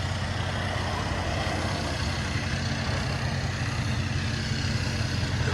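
Heavy construction digging machinery rumbles nearby, a steady dense low drone with a constant, unbroken level throughout and no speech.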